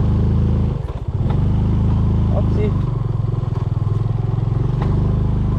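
A Yamaha PG-1 motorcycle rides a mountain trail in Pangasinan, its steady engine drone running throughout with a short dip and clatter near the start, while a rider briefly speaks over it.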